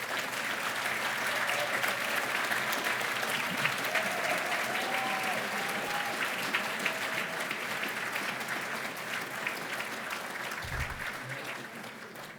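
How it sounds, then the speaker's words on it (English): An awards ceremony audience at an apprenticeship awards night applauds the finalists and winners, sustained even clapping heard at a moderate distance throughout, with a faint murmur of voices underneath. "Can we just give one last round of applause to all the finalists and winners that we've seen in here tonight?"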